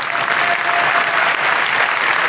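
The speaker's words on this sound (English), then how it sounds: "please give them a very, very warm round of applause" Steady, dense applause from an audience after a talk, filling the whole stretch, loud and continuous without pause.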